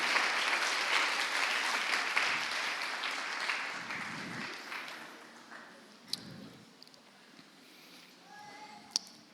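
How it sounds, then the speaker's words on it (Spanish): A church congregation applauds at a Spanish-language service, steady broadband clapping that thins and fades over about nine seconds, with a few scattered louder claps near the end. "Dale un aplauso al Señor, a su palabra"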